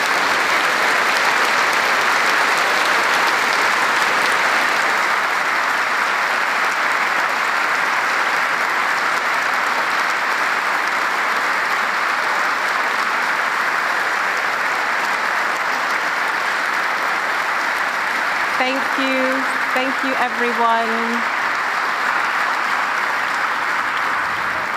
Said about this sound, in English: you're getting a humongous round of applause now from the audience